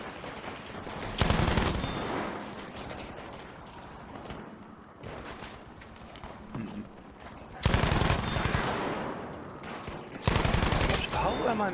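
Battlefield V gunfire crackles as several bursts of fast automatic fire, close and loud, separated by stretches of quieter shooting and game noise.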